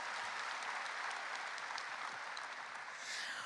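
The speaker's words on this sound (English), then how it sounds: "So another warm round of applause as we acknowledge her presence here today." Steady, sustained audience applause at an International Youth Day event, greeting the First Lady of Rwanda; dense, even clapping holds across the whole stretch with no voices over it.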